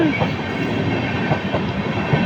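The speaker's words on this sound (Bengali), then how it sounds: "স্টাইলং এক্সপ্রেস যখন দেবগ্রাম স্টেশন হয়ে চলে যায়" The long Sairang Express rolls through Debagram station without stopping, its carriages producing a loud, close, continuous rumble with rhythmic clickety-clack of wheels over rail joints.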